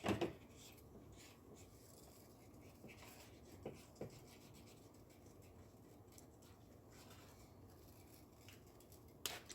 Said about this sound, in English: I'm going to cut out my circle because that's our next step, is to cut out our circle.